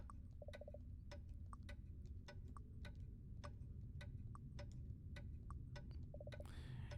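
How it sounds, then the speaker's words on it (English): An old grandfather clock in Goosebumps: The Game ticks steadily and evenly over a low, constant room hum, with a faint swell at the end. "You've heard of grandfather clocks,"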